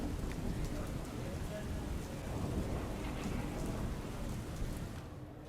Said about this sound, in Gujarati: પંચમહાલ જિલ્લામાં વહેલી સવારથી જ વરસાદી માહોલ છે.